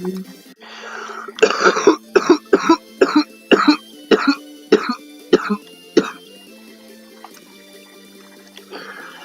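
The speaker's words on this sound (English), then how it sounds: "Yeah, I told you that cough is coming." A person coughs in a quick run of about ten rough, wet coughs, close and loud, then goes quiet.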